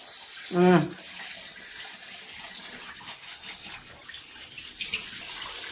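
Water runs steadily into a kitchen sink basin being filled as a small bath for a pet. It makes a soft, continuous hiss with a short vocal sound near the start.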